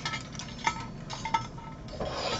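A large knob of butter goes into the bottom of a large pan to start a roux for Alsatian chicken: close metallic scrapes and a few sharp utensil clinks against the pan, ending in a soft, steady sizzling hiss, with no talking.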